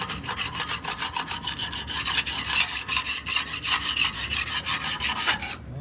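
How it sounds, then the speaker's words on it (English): A scraper works off paint softened with Peel Tec stripper, giving a steady run of quick, rhythmic rasping strokes, close and loud, with no talking. "Look, all I'm doing is scraping that."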